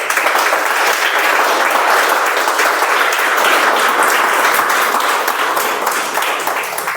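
Audience at an International Speech Contest applauds loudly and continuously, a dense sustained wash of many hands clapping with no talking over it.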